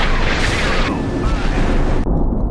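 Missile launches from warships in a naval combat simulation game: a continuous loud roaring rush of launches with overlapping bursts and a whooshing sweep, steady and dense throughout, ending in a sudden cut of the highs.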